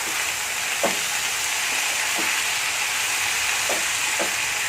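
Fenugreek leaf curry sizzles steadily in a pan, a loud constant frying hiss with a few soft scraping stirs of the spoon cutting through it.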